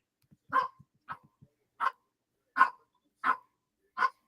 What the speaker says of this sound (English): That is dog.